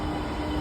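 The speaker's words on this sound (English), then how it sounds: "so this is our train." A train on the Sabadell–Barcelona line rumbles steadily at the station, a dense, continuous roar of wheels and motors that holds close and loud throughout the brief moment.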